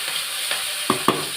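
Curry leaves and green chili dropped into hot cooking oil for a home lunch, giving two quick crackling bursts close by over a low steady sizzle.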